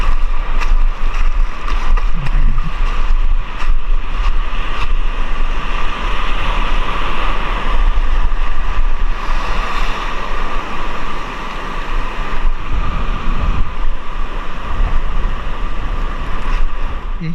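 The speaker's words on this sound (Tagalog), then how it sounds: "Basta ang alon." Sea waves wash steadily around a small fishing boat off Anajao Island, a constant rushing swell mixed with wind buffeting the microphone and a low engine-like rumble, with no clear voices.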